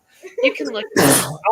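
A single sharp sneeze bursts out loud and close, right after a woman's brief, quiet speech and a short pause, with talk resuming just after it.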